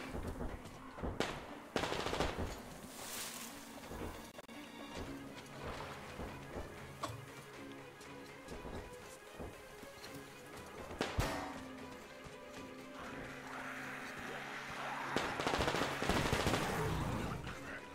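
Bursts of rapid gunfire in the video game Metro Exodus crackle repeatedly over a busy, dense background, with sharp loud shots standing out between sustained rattling fire.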